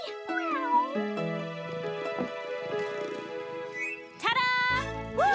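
A cartoon kitten meows in a series of high, bending, tonal cries, loud and close, with a brief pause before a final rising meow.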